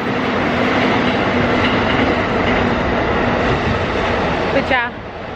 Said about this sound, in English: I don't know if you can hear me because there's a train.